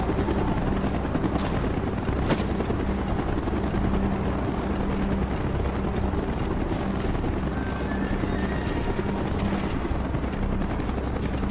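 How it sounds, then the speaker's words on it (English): Helicopter in the Call of Duty Black Ops game, a steady loud rotor drone that fills the whole clip with continuous low throbbing and no talk, the aircraft inbound during a mission. "Chopper's inbound!"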